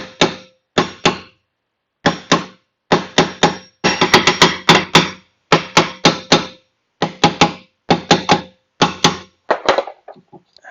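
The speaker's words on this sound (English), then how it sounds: "tap around the edges to kind of loosen it up" A hammer taps around the edges of a stuck car brake drum to loosen it, sharp close metallic knocks in quick bursts of two to five with short pauses between.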